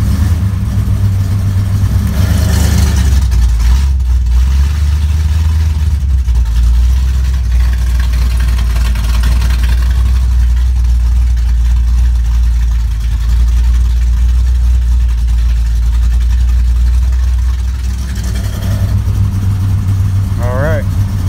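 Loud, steady rumble of a Chevrolet Monte Carlo SS V8 running close up with its exhaust cutouts, a deep continuous low drone that swells slightly around the middle and near the end.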